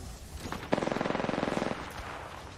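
Rapid machine-gun fire in a first-person shooter game: a single sharp shot, then a fast, even burst of about twenty rounds lasting roughly a second, loud and close, followed by quieter scattered noise.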